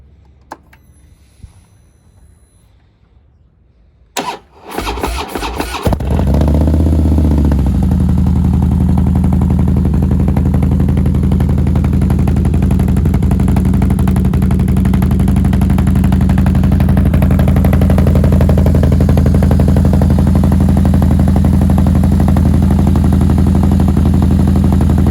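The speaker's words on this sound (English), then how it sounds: "this is gonna be a cold start of my bike with the 57H cams and the Vance and Hines high output 2-in-1" A Harley-Davidson Softail 103 with 57H cams and a Vance and Hines high-output 2-into-1 exhaust cold starts after a few seconds of quiet handling noise, cranks briefly, then settles into a loud, close, steady rumbling idle that continues to the end.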